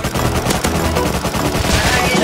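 Dense, loud gunfire in the video game Rust, rapid overlapping shots filling the whole moment, close and unbroken.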